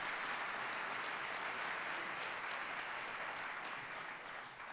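Sustained audience applause during a political speech at the Illinois General Assembly in Springfield, steady dense clapping from a large room that holds for several seconds and eases slightly at the end.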